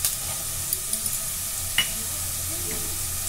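Cashews sizzling in a hot pan for veg fried rice, a steady broadband frying hiss with a few faint stirring clicks and soft knocks, close and continuous.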